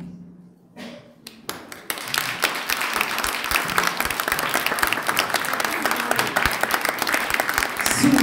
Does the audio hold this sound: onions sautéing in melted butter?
no